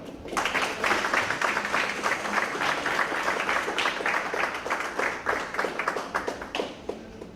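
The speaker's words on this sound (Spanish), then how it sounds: "Por favor, démosle un aplauso a María Hilda" An audience at a book launch applauds María Hilda, a dense burst of clapping that holds steady for several seconds before thinning out at the end.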